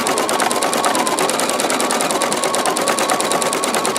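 A sewing machine stitches fine thread at a fast, steady pace, its rapid regular needle clatter loud and close from start to finish.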